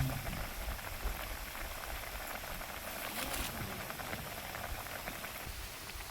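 Frying snack for a traditional summer treat, a steady close hiss and dense crackle of bubbling oil running continuously, with no voices.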